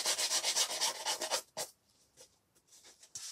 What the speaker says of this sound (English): So just tear this off.